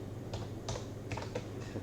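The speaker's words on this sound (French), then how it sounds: "je tape n'importe quel caractère, je tape S" Several soft keystrokes on a computer keyboard, tapped in a quick irregular run at close range and fairly quiet over a low background hum.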